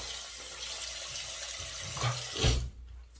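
Tap water runs steadily into a sink while a man rinses his face mid-shave, with louder splashing near the end before the flow cuts off into quiet.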